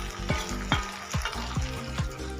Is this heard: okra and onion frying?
yes